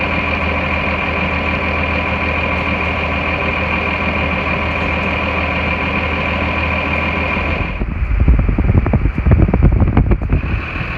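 A 1998 Ram pickup with a Cummins diesel and five-speed manual drives along with a steady engine drone, then the tone changes at a gear shift and turns rougher and louder as it pulls away.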